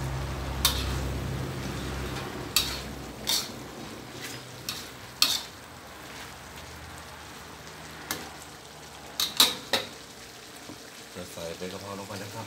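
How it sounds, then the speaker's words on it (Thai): Chicken giblets stir-fried with red holy basil in a hot pan, soft sizzling under repeated sharp scrapes and clanks of a spatula against the pan, irregular and close, with a low hum in the background. "พยายามผัดให้สุกเนาะ"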